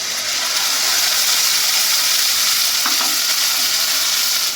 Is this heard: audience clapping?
no